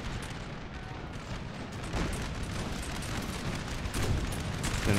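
Artillery and musket fire from a Napoleon Total War battle, a dense, continuous barrage of booms and crackling volleys with heavier blasts swelling in near the end.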